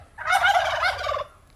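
Wild turkeys give a single loud, rapid, rattling gobble lasting about a second, heard up close against a quiet background.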